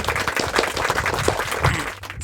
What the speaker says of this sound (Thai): ปรบมือให้ตัวเองหน่อ ย